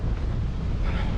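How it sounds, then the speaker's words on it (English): Strong wind roars steadily across a microphone on the Bruce Trail during a chilly, frost-free dawn hike, a dense low rumble with buffeting that never lets up. "Strong winds."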